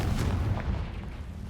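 A Confringo fire-blast spell explodes in Hogwarts Legacy on PS5, a loud low booming burst that rumbles dense and heavy through the whole moment.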